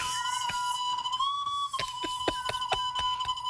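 A steady whistle holds a clear tone that wavers slightly in pitch for several seconds, with a string of sharp clicks and taps sounding over it.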